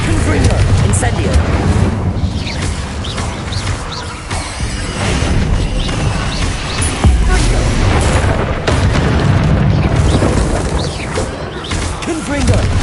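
Repeated explosive spell blasts in Hogwarts Legacy, heavy booms and crashes rolling one after another over continuous battle noise, loud and close.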